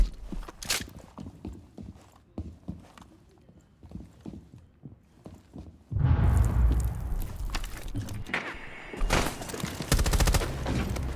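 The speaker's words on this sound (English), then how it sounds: "That was a hip-fire headshot." Hip-fire headshot in a video game: scattered sharp clicks and footstep-like taps, then a sudden loud burst of gunfire with sustained noisy shots, resuming after a brief dip.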